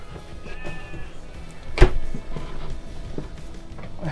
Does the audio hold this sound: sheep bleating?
yes